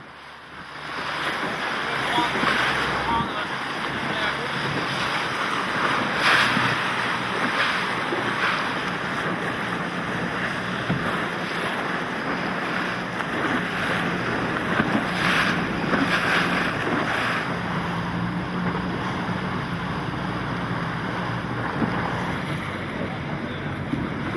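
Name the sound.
sailboat moving through waves in wind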